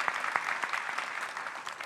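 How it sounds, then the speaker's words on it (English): A seated audience at a talk on the media war against Israel claps in a dense, steady burst of individual hand claps, moderately close and continuing without any voices. "so round of applause for my brother-in-law"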